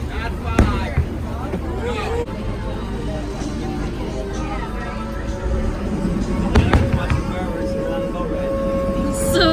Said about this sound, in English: We're gonna be on the water while the fireworks are going on.